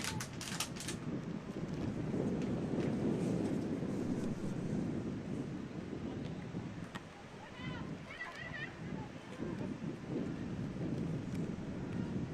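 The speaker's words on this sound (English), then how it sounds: "Hear how windy it is tonight." Strong wind roars and buffets the microphone in a constant low rumble at a night soccer match, with faint crowd noise and talk underneath.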